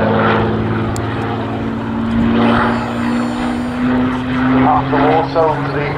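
A Boeing B-17F bomber flies past at an airshow, its piston engines and propellers droning loudly in a steady, pulsing roar that swells and fades slightly as it passes.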